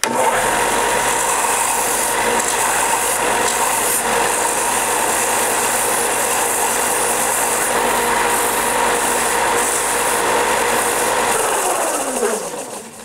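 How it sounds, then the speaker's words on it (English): A power grinder shapes a wooden crankbait fishing lure body, a steady loud whirring drone lasting many seconds before the motor spins down at the end; no talking. "let's start grinding a shape onto this thing"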